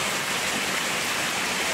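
Heavy monsoon rain pours down in a dense, unbroken hiss that stays loud and even throughout, with no distinct drops or breaks.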